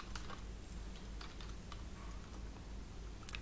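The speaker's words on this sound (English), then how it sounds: "Minus p and type the password" Typing on a computer keyboard while configuring HPE server iLO scripting: scattered, fairly quiet key clicks under a steady low hum, with no talk.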